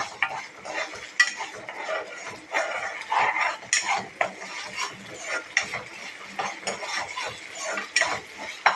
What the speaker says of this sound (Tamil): நல்லா பச்சை வாசனை போகிற வரைக்கும் வதக்கிக்கணும்.